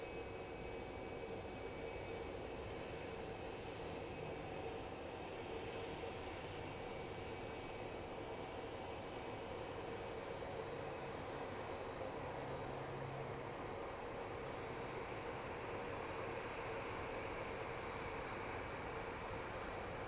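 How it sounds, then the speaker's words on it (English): A fixed-wing airplane approaching to land at Phoenix Sky Harbor airport, a steady broad jet roar that holds at a moderate, distant level throughout with no talk over it. "I heard a plane coming in."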